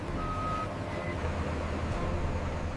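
Trucks deliver rock at a seawall construction site, a dense rumble of heavy engines under a high reversing beep that sounds briefly twice early on, all loud and continuous.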